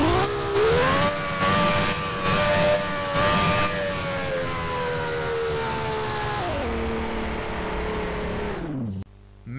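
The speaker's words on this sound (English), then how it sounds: "I really hope the engine sounds like how it did in Most Wanted." A BMW M3 GTR engine in the driving game Rigs of Rods, revving in repeated loud pulses, then holding a high whining pitch before dropping lower and cutting off near the end.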